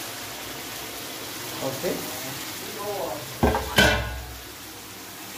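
Pork meat dropped into a hot pan for an Assamese-style stir with mustard greens, giving a sudden loud sizzle burst with clatter, preceded by faint kitchen noise and brief talk.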